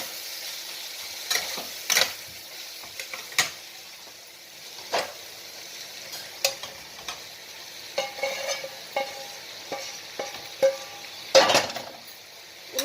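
Spices with turmeric fry in a pan with a quiet background sizzle, as a spoon stirs and scrapes, giving sharp intermittent clinks and scrapes of metal against the pan, irregularly spaced throughout.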